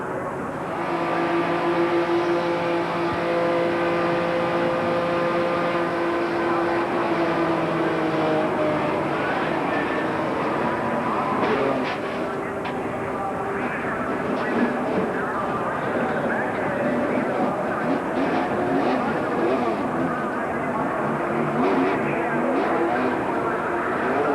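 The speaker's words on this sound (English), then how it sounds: "here's the in-car from Mike Wallace's perspective" Onboard engine of a 1993 NASCAR Busch Grand National race car at Daytona International Speedway, a steady loud droning roar heard from inside the car under continuous commentary.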